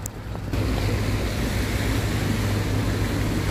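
Steady rushing water, likely a mountain stream beside the Geumjeongsanseong fortress road near Busan, fills the scene as a dense, even wash of noise mixed with wind buffeting the microphone, with no talk.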